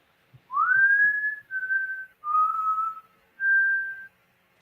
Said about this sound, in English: You hear the whistling of the trees.